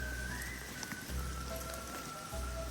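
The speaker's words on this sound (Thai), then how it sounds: "ตอนนี้ฝนก็เริ่มซาลงแล้วนะครับ" Rain on a forested hillside near a stream, a steady close patter of drops on leaves and surfaces, with a constant low rumble underneath and no voices.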